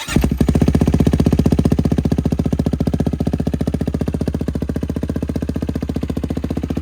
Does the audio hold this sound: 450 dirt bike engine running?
yes